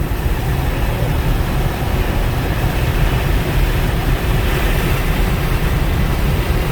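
Steady, loud road and engine roar from inside a 2001 Volvo V70 wagon with 362,000 miles as cruise control resumes and it accelerates toward 81 mph, a constant broadband rumble with no talking.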